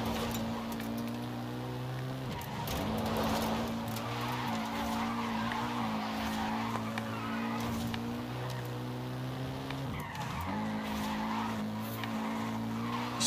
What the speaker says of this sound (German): Driften ist ganz geil hier.